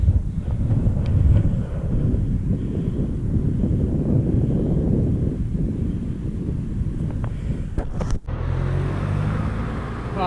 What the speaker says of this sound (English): the wind hasn't totally died down, but it's a lot less than what it was earlier